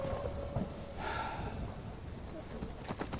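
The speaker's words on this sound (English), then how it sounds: "Oh good, the thunderstorm's right now." Rain pours steadily during a thunderstorm in Skyrim, with a soft rumble of thunder partway through and faint in-game sounds mixed in.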